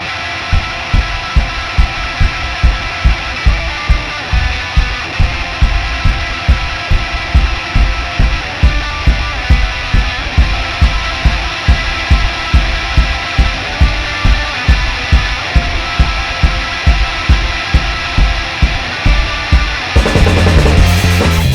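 A full-band rock single plays loudly with a steady driving drum beat and dense guitars, continuing without pause before a brief change near the end.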